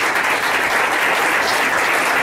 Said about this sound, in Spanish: ¿Por qué le das un fuerte aplauso al Señor?